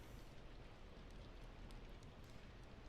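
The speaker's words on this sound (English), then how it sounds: "I'm trying to think if the rain sounds are real or backtrack. They're backtrack." A steady hiss of rain on a background track, faint and continuous with a few soft droplet ticks and no voices.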